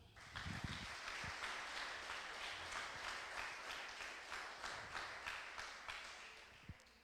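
Congregation at a Tuesday evening Bible school church service applauding steadily, dense rapid clapping from many hands filling the room throughout, with a couple of brief low thumps.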